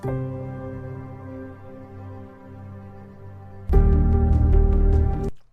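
Soft sustained music plays, then abruptly jumps to a much louder, denser passage with percussive hits before cutting off suddenly.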